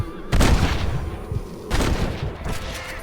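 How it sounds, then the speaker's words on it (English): Gunfire from the Western video game Red Dead Redemption: two loud, booming shots about a second and a half apart, followed by a softer third report, each ringing out with a lingering echo. "Try to take him alive. By shooting him in the legs."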